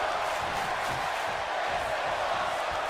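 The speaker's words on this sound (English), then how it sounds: "You hear the crowd here tonight." A WWE 2K22 arena crowd roars in a steady broadband wash, with faint whoops rising now and then from the sustained, fairly quiet noise.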